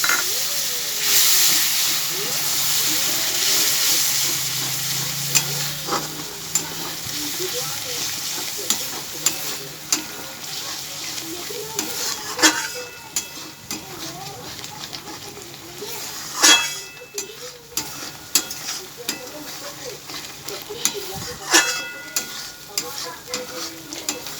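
Egg curry gravy made with yogurt and water bubbles and sizzles in a pan while a spoon stirs it, giving a steady close hiss with intermittent scraping and clinking accents throughout, no voices.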